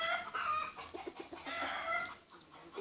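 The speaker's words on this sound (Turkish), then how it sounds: "xoruz toyuqlar yenə başladı qışqırışmağa" A flock of chickens clucks and squawks close by, with a rooster crowing among them. The hens call in bursts that overlap with no clear break.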